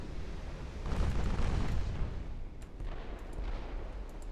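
Battleship broadside gunfire in the naval warfare game Ultimate Admiral Dreadnoughts, a deep, rumbling boom of heavy guns that swells and rolls on for several seconds, distant and muffled rather than sharp.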